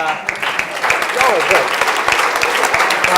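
An audience in a room at a bourbon event claps for the guests, a steady wash of close applause under a few voices.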